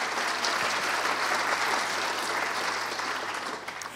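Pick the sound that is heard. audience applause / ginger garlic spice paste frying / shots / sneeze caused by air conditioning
audience applause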